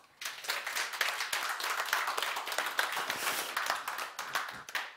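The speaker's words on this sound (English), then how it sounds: "I think we have a winner. Give him a big round of applause." A small audience at a tech meetup claps for a retro game winner, a brisk patter of hand claps starting suddenly and continuing steadily before tapering at the end.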